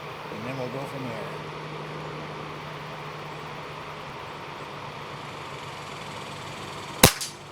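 A Umarex APX multi-shot .177 pump air rifle fires once near the end, a single sharp, loud crack after several seconds of steady low background noise.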